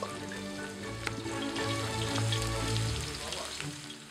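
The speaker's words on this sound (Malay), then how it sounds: "kita akan tumiskan kita punya 1 biji bawang besar yang dipotong mayang ataupun chiffonette yang halus" A finely sliced large onion sautés in hot oil for rendang, giving a steady, close sizzle with faint stirring clicks, fairly even in level throughout.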